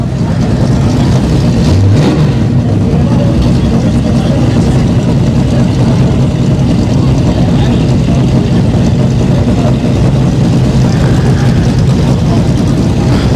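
Supercharged drag racing car with a Magnuson blower running on pump fuel at Orlando Speed World, its loud, deep engine droning and revving steadily throughout, close and saturated.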